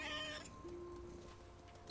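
A cat in What Remains of Edith Finch lets out a short, close meow that rises into a drawn-out, whiny tone, then leaves a quiet tail; it sounds faint overall, with no talking.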